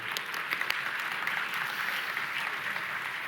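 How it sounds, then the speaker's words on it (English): Audience applause at a business forum in Switzerland, steady dense clapping from a crowd filling the room throughout, with no break. "The announcement alone gives you an applause"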